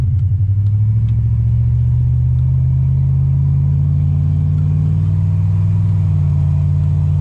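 A 2000 Ram 1500 pickup with 4.56 gears, towing a trailer, pulls away from a stop: a loud, close, steady engine rumble that holds and climbs gradually without a break.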